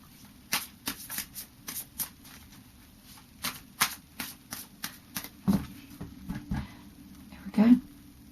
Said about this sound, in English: Now just do a final shuffle of the Fairy Oracle.